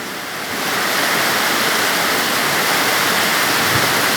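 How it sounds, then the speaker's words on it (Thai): Heavy rain pouring steadily, a dense, loud, continuous hiss that rises within the first half second and holds without a break, no voices. "ฝนตกหนักครับ"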